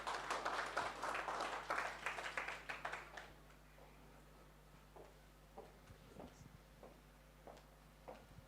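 An audience at an NFT conference applauds as a panel walks onto the stage, with a brief burst of dense clapping that quickly thins into scattered, faint claps against a quiet room.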